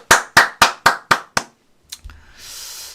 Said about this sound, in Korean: 어유 박수!